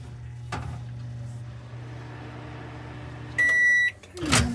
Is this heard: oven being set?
yes